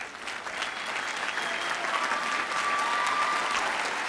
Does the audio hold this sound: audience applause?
yes